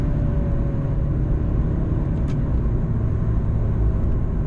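Ferrari 430 Scuderia engine droning steadily and loudly throughout, a dense low rumble that holds a constant pitch without gear changes, heard up close with no voices.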